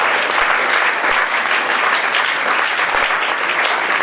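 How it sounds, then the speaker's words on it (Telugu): Loud, steady applause from an audience at a Rotary Club installation ceremony in Nizamabad, continuous clapping filling the whole stretch with a few sharper claps standing out. "చప్పట్లతోటి ధన్యవాదాలు"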